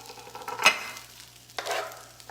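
Bacon sizzles on a flat griddle in quiet bursts, with brief scraping or stirring touches rising above a low, steady fry; no voices.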